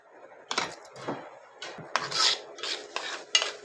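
A spoon mixing the coating mixture for eggplant slices, with chopped coriander and salt, in a bowl, producing a series of close, irregular scrapes and clinks against the bowl with short pauses between strokes.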